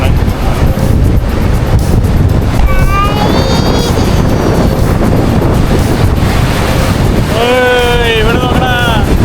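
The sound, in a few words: sea waves and wind on a boat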